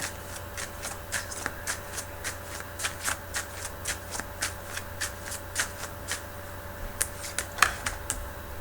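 Tarot cards are shuffled by hand in a steady run of crisp riffling flicks, about two per second, close and fairly quiet, with a few sharper snaps near the end.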